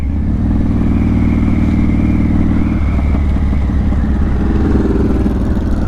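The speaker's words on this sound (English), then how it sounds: "Got a bike coming up hard on my left." Motorcycle coming up hard on the rider's left in road traffic: a loud, close engine drone with a shifting pitch and a slight change in tone partway through.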